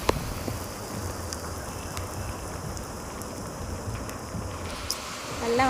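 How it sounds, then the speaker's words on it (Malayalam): Heavy rain falls around someone walking outdoors in Kerala near a terrace, a steady dense hiss with scattered sharper drop ticks, fairly faint and continuous with no talk. "നല്ല മഴയാണ് ഗൈസ്."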